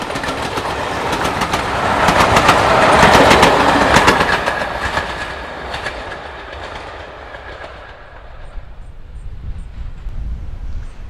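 Two Class 47 diesel locomotives, a Freightliner and an EWS engine double-heading a freight train, pass by with a loud swelling roar and rhythmic wheel clatter that fades to a distant rumble.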